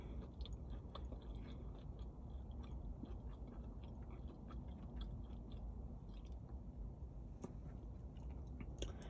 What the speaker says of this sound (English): I gotta chew the front of my mouth a little bit